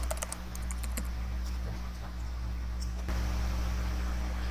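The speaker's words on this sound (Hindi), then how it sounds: "अब हम यहाँ पे टाइप करते हैं।" Keystrokes on a computer keyboard, a quick flurry at first and then a few sparse taps, set over a constant low electrical hum.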